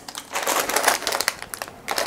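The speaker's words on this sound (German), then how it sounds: "Mache ich mal schnell auf die Tüten" Plastic bags holding Bluebrixx building bricks being torn open and handled, giving loud, close crinkling and rustling bursts in an irregular rhythm without talking.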